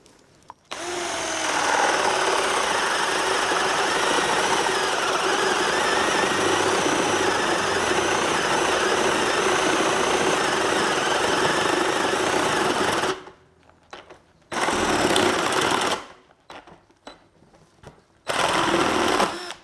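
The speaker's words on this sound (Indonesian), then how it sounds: "Di bor yang torsinya sekedar 40-an Nm bisa dipakai untuk bor kipas 32 mili" An Ingco CDLI20021 cordless drill with a 32 mm spade bit whirs loudly and steadily for about thirteen seconds while boring, then runs in a few shorter bursts separated by pauses.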